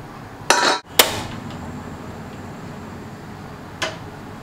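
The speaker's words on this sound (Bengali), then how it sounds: "গ্যাসটা জ্বেলে দিলাম" Lighting a gas stove burner in a home kitchen gives two sharp metallic clicks close together, then a third fainter click a few seconds later over a quiet background hiss.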